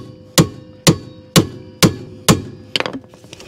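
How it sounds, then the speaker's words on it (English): A Vessel manual impact screwdriver is struck with a hammer to free a partially stripped brake rotor screw on a 2004 Honda CR-V: five sharp metallic blows at an even pace, then a quick rattling clatter, close and loud. "Lucky we have this vessel impacta screwdriver, or that would have been a pain."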